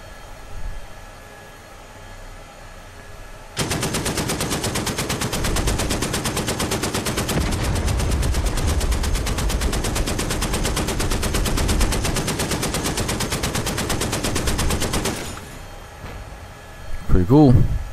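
A tank's machine gun in DCS World rattles off a long, fast, steady burst of automatic fire for about twelve seconds, loud and close, after a quiet lead-in, then stops; a faint voice and a short rising tone follow at the end.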